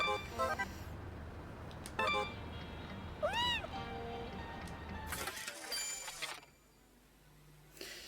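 A kitten meows in the video game No More Heroes 3, a short rising-and-falling cry amid busy game sounds with clatters and a crash, then quieter background.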